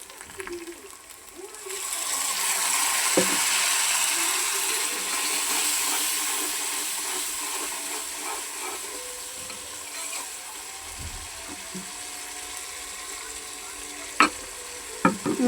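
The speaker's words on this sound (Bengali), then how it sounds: "সব মশলা আমি দিয়ে দিছি এখন মশলাটা ভালো করে কষাই নেব" Spices for beef curry stir-fried in oil in a kadai, giving a steady close sizzle with occasional scraping and knocking from stirring, plus a couple of sharp utensil taps near the end.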